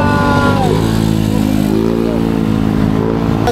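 A new motorcycle engine revs hard and steadily up close on the Marilaque road, its rising and falling harmonic whine filling the whole stretch without pause.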